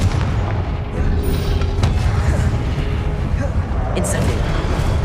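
A Confringo blasting spell explodes in the Hogwarts Legacy video game amid a heavy, continuous low rumble, with fiery booms and a couple of sharper cracks standing out in loud combat noise.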